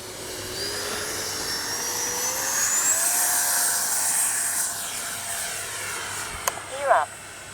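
A Freewing T-33 80mm electric ducted-fan RC jet takes off, its fan whine climbing steadily in pitch as it accelerates and pulls away, with a brief voice near the end.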